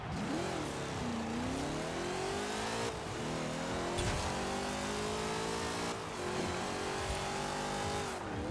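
A drag-tuned car in the racing game Forza Horizon 4 accelerates hard with wheelspin, its engine screaming up through several gears with brief drops at each shift and tire squeal underneath, loud and without talk.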